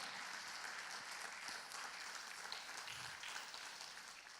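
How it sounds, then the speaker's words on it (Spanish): Church congregation applauding loudly in praise during a Spanish-language evangelical sermon, a steady dense wash of many hands clapping that holds evenly throughout, heard from within the hall. "Dele palmas fuerte al Señor"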